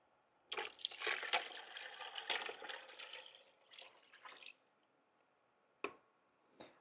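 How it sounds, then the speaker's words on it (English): Water poured into a container of turkey brine, a close splashing, trickling pour that runs steadily for several seconds, thins out, then ends with a couple of brief drips or sloshes. "I'm going to add a little bit of water to make sure we have covered our turkey all the way."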